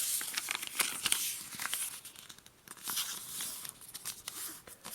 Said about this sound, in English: And then we'll take both edges and fold them in to the center.